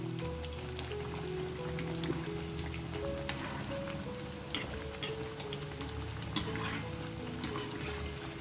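Dough pieces frying in oil in a pan, a dense, crackling sizzle that runs steadily and close, with occasional louder pops and faint utensil clinks.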